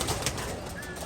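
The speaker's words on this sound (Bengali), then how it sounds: "5 পিস কবুতর ছাড়তেছি, এগুলো ঘর চিনানো।" Homing pigeons let out from a loft, a handful of trained birds flying free; a steady, close rush of wing and outdoor noise with a faint coo-like tone, continuous through the short moment.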